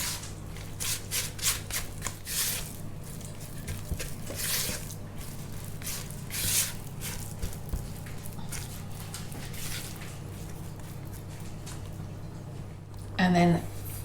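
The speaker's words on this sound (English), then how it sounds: "I'm just going to mix that in." Oil and eggs being stirred into carrot cake batter in a home kitchen: wet squelching and slapping strokes in an uneven rhythm, with a person talking over much of the mixing.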